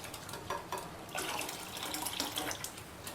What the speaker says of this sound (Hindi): आधा कप पानी और डालूँगी।